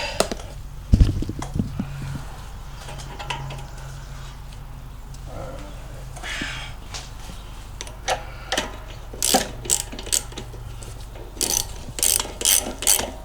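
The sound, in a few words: tightening down bolts during a mower engine swap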